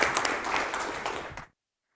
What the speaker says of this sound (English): Everyone, round of applause, please, for my esteemed panelists.